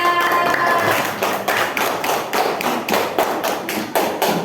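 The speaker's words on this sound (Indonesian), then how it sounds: "Tepuk tangan untuk kelompok 3." A classroom of pupils claps for group 3 after it presents piggy banks made from used bottles, giving a loud, steady patter of hand claps with some thumping taps throughout.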